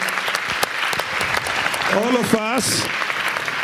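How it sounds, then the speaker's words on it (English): Audience applause in a plenary hall at the LeWeb Paris 2013 startup conference, a steady dense clatter of many hands from a sizeable crowd, with a brief voice rising over it midway. "I think she's entitled to a round of applause for this idea"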